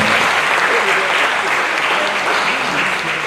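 An audience at a university security summit gives a warm round of applause, steady and full for a few seconds, with faint voices mixed in.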